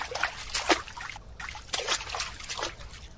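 Water trickles and sloshes in the flooding lower decks of the sinking Titanic, with irregular splashes and dribbles rising and falling close by and no voices.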